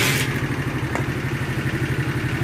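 A 50cc motorcycle engine, recently repaired with a new timing chain, runs steadily at a quiet idle with a regular low, even pulse close by, plus a brief clatter at the start and a faint tick partway through.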